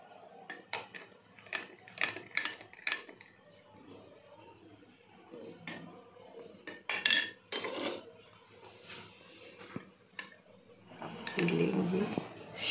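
A spoon clinks against a cup while stirring honey into a morning drink, with a series of short, sharp metallic taps near the microphone and quieter handling sounds between them.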